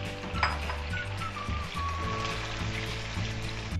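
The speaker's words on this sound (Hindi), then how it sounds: "ये हम हरी मिर्चें इसमें साबुत ही डाल देंगे इसी तरह, और हम इनको फ्राई करेंगे।" Whole green chillies fry in hot oil for chicken karahi, a steady close sizzle with low background hum and occasional faint clinks of the pan, no talking.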